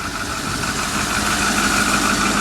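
A 2010 Ford F-450 wrecker's engine idles steadily, a loud, even rumble with a constant drone and no voices.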